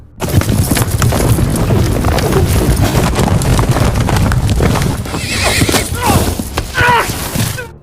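Several horses gallop hard with steady clip-clop hoofbeats and neighing as bandits ride in pursuit of a fleeing man; the pounding is loud and continuous, with whinnies rising near the end.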